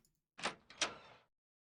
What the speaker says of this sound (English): The door creaks open